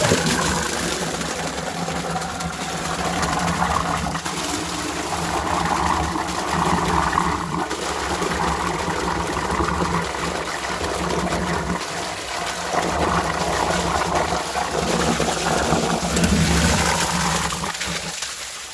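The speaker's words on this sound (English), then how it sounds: "how long it takes to fill up this 5-gallon bucket" Water pouring steadily from a fat turbine hose into a 5-gallon bucket, a loud continuous rushing splash close by that holds for the whole stretch, with no talking.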